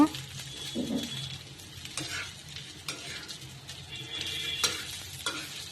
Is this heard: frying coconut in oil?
yes